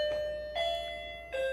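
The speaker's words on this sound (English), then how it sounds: "that's the doorbell." A two-tone electronic doorbell chimes twice, each clear ding-dong ringing out alone against a quiet room, with a brief pause between the two presses.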